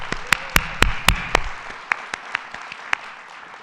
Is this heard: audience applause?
yes